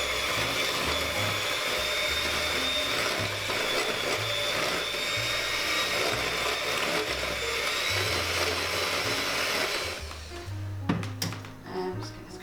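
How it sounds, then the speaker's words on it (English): An electric mixer whisks an egg and sugar mixture for a roulade, giving a steady, close motor whir that runs continuously and then cuts off near the end, followed by a few light clatters and bumps. "we're going to start whisking our egg and sugar mixture together until it is very pale"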